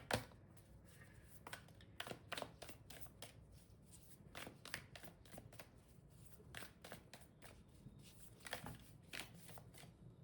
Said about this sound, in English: Let me just shuffle some other cards.